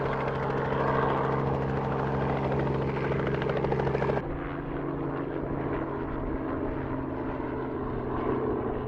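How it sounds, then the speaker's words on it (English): A helicopter drones overhead in an open outdoor setting, a steady rotor and engine roar holding constant, with the sound abruptly losing its brightest upper tones partway through. "there's even helicopters"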